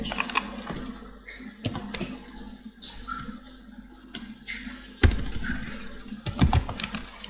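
Irregular keystrokes clatter on a computer keyboard, close and crisp, with a few heavier taps near the end over a faint room hum.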